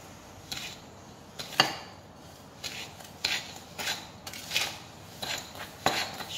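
A utensil scrapes and clinks against a bowl while sugar and vanilla sugar are mixed for French brownies, about eight rhythmic scraping strokes, close and moderately quiet, with no talking.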